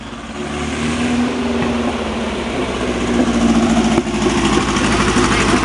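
A Meyers Manx Volkswagen dune buggy engine idles after a cold start, a loud, steady, buzzy air-cooled rumble up close that swells slightly partway through.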